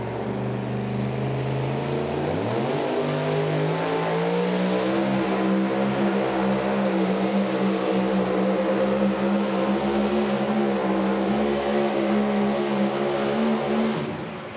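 A super modified two-wheel-drive pulling truck's engine roars continuously at a tractor and truck pull in Farley, Iowa, its pitch climbing sharply after a couple of seconds and then holding a loud, steady, high-revving drone throughout.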